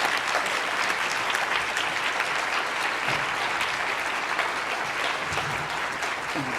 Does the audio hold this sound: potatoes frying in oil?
no